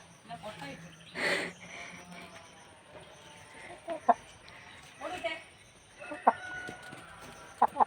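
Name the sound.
hen clucking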